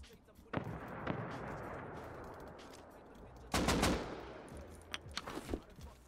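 Gunfire in a video game aimed at the player, with a few scattered sharp shots followed by a loud burst of rapid firing and several more cracks, set against a steady noisy game background.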